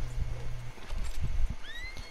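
A horse in a video game, with close clip-clop hoofbeats and snorting in a short burst, followed by a rising whinny-like tone near the end.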